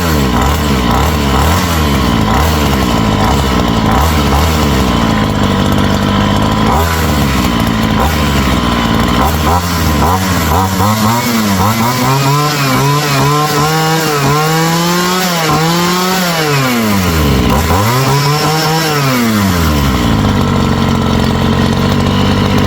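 A small two-stroke weed wacker engine mounted on a bicycle runs loud and close, buzzing rough at first, then revving up and down in long rising and falling sweeps that hold a steady roar throughout.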